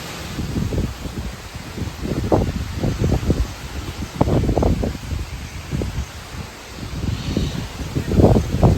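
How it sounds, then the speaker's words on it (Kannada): Gusts of wind under a heavily clouded sky blow through leaves in a residential layout, producing rolling rustles and low buffeting microphone rumble in uneven surges, fairly loud and close, with no clear talking. "ಎಷ್ಟು ಚೆನ್ನಾಗಿದೆ ನೋಡು ಗಾಳಿ."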